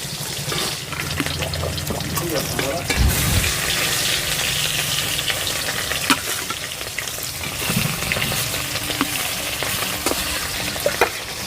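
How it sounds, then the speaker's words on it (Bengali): Katla fish frying in mustard oil in a wok gives a steady, loud crackling sizzle throughout, with occasional sharper pops and stirring clatter. "এবারে কড়াইতে মাছগুলো দিয়ে দেবো।"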